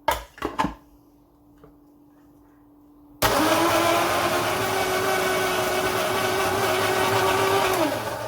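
After a few clicks and handling knocks, an electric grinder jar starts abruptly and runs loud and steady, blending red chillies with oil into chutney paste, a continuous whirring motor roar with churning texture.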